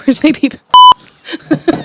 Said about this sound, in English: Mistimed bleeps are one of my favorite things.